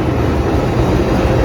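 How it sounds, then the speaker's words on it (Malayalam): AC double decker train pulling into a station on the Chennai to Bangalore route, a steady loud low rumble of rolling wagons and engine filling the moment without pause. "അപ്പോൾ നമ്മളെ ട്രെയിൻ വരുന്നുണ്ട് കേട്ടോ"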